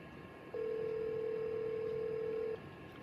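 A dial-up modem dials out over Google Voice phone service. One steady tone holds for about two seconds, clear and close, over a low hiss of background noise.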